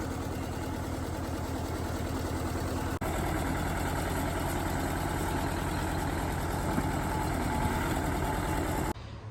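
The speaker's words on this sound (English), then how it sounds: "it's a pretty old bulldozer" An old bulldozer engine idles in a steady, low, rumbling drone that stays even throughout, with a brief click partway through and no talking.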